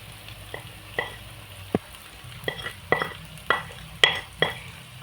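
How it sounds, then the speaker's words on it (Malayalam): Chilli, coriander and turmeric powders are stirred into chicken in a pan over a wood-fired stove, with repeated sharp scrapes and knocks of a utensil over a low sizzle, close and fairly loud. "ഇത് നമ്മൾ നന്നായി വഴറ്റി കൊടുക്കണം നമ്മൾ നന്നായി ഇത് ഇളക്കി കൊടുക്കണം"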